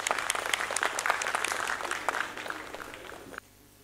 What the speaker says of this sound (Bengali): আরেকবার সকলের হাততালি আশা করছি।